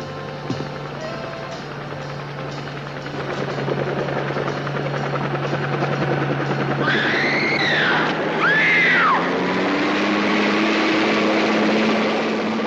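A helicopter drones steadily overhead in the 1967 film Gunn, its rotor and engine a sustained loud hum that swells and shifts in pitch, with brief whining tones rising over the steady roar.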